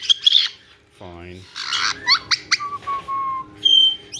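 Pet chickens, one mild-tempered and one feisty, give bright chirps and whistled calls at a backyard recess, with short bursts scattered between a person's speech and a low tonal sound.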